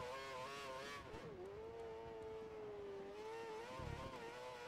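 A Formula One car's engine in the PC game F1 2013 drones and sags as the car runs out of fuel, its whining tone dipping and then holding at a lower pitch, with a brief low thump near the end.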